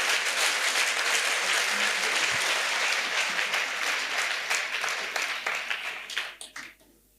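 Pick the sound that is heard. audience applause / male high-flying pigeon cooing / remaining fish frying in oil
audience applause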